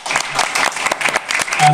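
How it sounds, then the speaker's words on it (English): Audience at a local short film festival showcase claps for two finalists, a brief, close burst of uneven clapping that swells slightly toward the end. "Another round of applause for Josh and Mingo, please."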